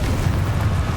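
A Confringo spell explosion in Hogwarts Legacy erupts as one dense, loud, rumbling blast that fills the whole second with broadband roar and no pause or voice.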